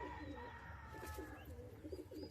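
Young pigeons in a home loft give soft, repeated cooing calls over a low background rumble, close and quiet, with no talking.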